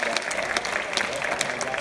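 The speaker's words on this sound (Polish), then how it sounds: "Te brawa z pewnością należą się bardzo zdolnym muzykom" A short burst of audience applause for musicians at a prayer concert for Europe, dense and continuous, with a voice talking over the clapping.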